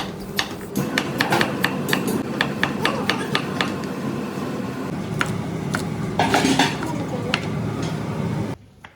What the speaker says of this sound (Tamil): இப்போ நம்ம சாம்பார் சாதத்துக்கு காய்கறிலாம் கட் பண்ணிக்கலாம்.